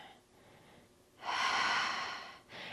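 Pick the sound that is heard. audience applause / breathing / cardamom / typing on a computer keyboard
breathing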